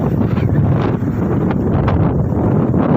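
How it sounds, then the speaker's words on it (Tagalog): Strong wind buffets the microphone with a constant loud roar and occasional gusts, no voices. "Grabe, lakas ng hangin."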